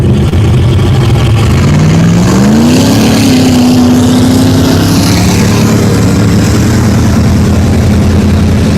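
Loud mud bog race truck engines rumble close by, with one engine revving and climbing in pitch before settling into a steady, heavy drone.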